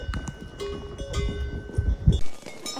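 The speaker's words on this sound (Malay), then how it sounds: "Bunyi loceng." Bells hanging on cows in a snowy forest, a few irregular clanks and rings close by, spaced out and loose in rhythm, with some low background noise and no talk.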